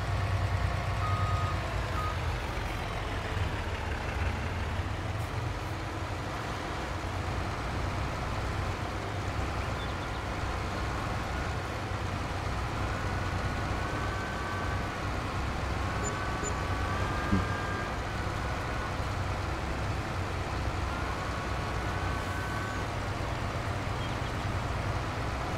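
A truck in Farming Simulator 22 reverses, with a steady backup beeper repeating over a continuous low engine rumble; no talk.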